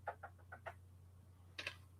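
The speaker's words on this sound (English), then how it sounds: "There's my cat because he's over there chirping because he hears me talking." A pet cat gives a quick run of five soft chirps, then one brighter chirp after a short pause, faint against a steady low electrical hum in a quiet room.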